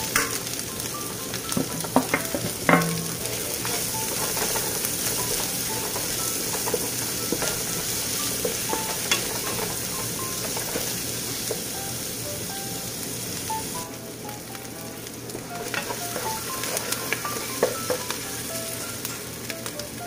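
Onions fry in a pan for bupis with a steady dense sizzle like light rain, plus occasional stirring clatter and a couple of utensil knocks near the start, close and continuous.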